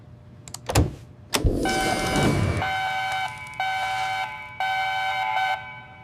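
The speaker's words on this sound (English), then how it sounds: "The alarm rings loudly." An alarm rings loudly through an apartment building, a piercing, steady electronic tone that steps in level a few times. It follows two sharp bangs near the start.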